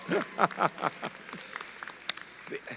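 Audience applause at a 2014 winter graduate commencement ceremony, a light patter of clapping heard under and after someone speaking.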